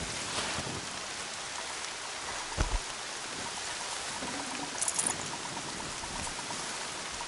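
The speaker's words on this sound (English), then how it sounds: "Rain's not so bad." Steady, moderate rainfall in the video game Horizon Zero Dawn hisses continuously, with a few faint thumps and splashes, and no speech over the even wash.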